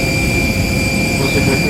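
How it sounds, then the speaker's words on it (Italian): An airplane's jet engines roar loudly and steadily nearby, a dense low rumble with a high whine over it, heard briefly, likely on arrival in Tenerife. "Vara che design di aereo"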